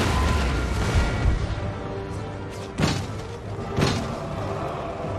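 Heavy booming cannon shots in the video game Empire: Total War, two sharp blasts about a second apart against a rumbling battle background, loud and close.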